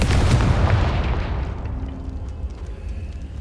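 Confringo fire spell explosion in Hogwarts Legacy, a loud booming blast at the start that decays into a long rumbling tail, with no voices.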